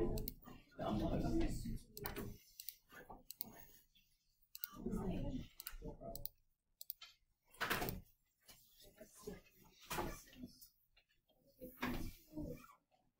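Light plastic key clicks, tapped in short irregular runs, mostly beneath a person talking steadily close by.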